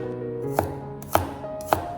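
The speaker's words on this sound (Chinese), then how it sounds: "然后准备一点大蒜，先将它切碎，" Garlic being chopped with a knife on a board, three sharp evenly spaced knocks close up over a quiet room background.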